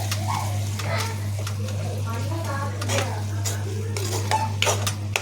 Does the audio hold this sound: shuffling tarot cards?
no